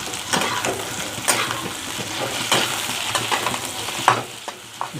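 Onions and green chili sizzle steadily in a pan for Chinese chicken, with repeated close scrapes and clinks of stirring.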